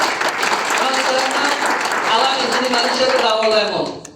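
Audience applause for a leader at a gathering, a steady dense wash of clapping held throughout, with crowd noise and voices mixed in before it tapers at the end.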